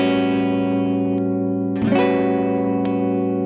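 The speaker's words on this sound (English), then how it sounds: "let's hear what it sounds like when you switch between the lead and rhythm circuits and you're on the neck pickup" A sustained distorted chord on a Fender Jazzmaster's neck pickup rings steadily, with a brief click and shift in tone partway through as the guitar switches between its lead and rhythm circuits.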